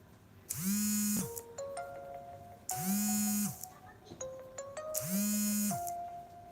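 A mobile phone rings in a kitchen where pempek fish cakes are being made, sounding as three loud electronic ring bursts with rising and falling tones. Short beeping notes fill the gaps between the bursts.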